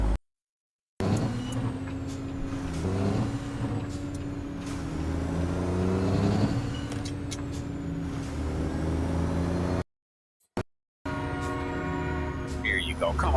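A train in American Truck Simulator rumbles past with a long, loud, sustained horn blast over heavy engine and wheel noise, briefly cut by short silent gaps, with a voice talking faintly underneath.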